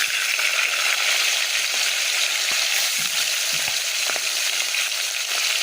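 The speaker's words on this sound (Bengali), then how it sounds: "একদিকে ভাত একদিকে মাছ ভাজা বসিয়েছি" Fish fries in a pan over a large stove, giving a continuous bright sizzle with scattered pops and small clicks, close and steady with no talk.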